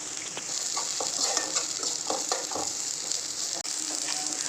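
Chopped capsicum frying in a pan, giving a steady bright sizzle with scattered scraping stir strokes close to the microphone and no talk.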